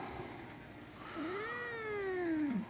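A single long, drawn-out cat meow, rising then slowly falling, close and fairly clear against a quiet room background.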